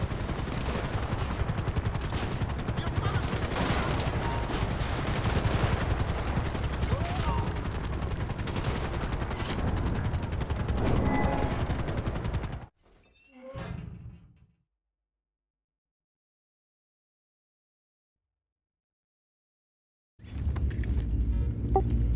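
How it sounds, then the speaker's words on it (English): Attack helicopter gunfire in GTA V: dense, loud bursts of shooting and rotor noise fill the first twelve seconds, then a brief thud and near silence before loud action resumes. "Oh, fucking attack choppers after us."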